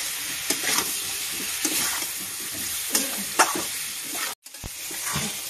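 Spices fry in a pan for a kohlrabi fish curry, giving a steady sizzle with periodic scraping stirs. Near the end there is a short silent break before the sizzling resumes.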